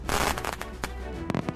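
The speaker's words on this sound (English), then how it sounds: "This firework slaps, Charm." A firework bursts with a loud crackling pop, followed by scattered sharp crackles and snaps over about a second and a half, close and unaccompanied by speech.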